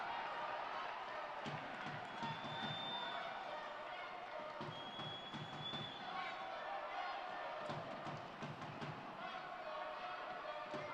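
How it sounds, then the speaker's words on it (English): New York Red Bulls II supporters chant from the stands during a USL playoff match against the Pittsburgh Riverhounds, a broad rhythmic roar of massed voices rising and falling under a commentator's voice. "a Red Bulls chant comes up from the crowd"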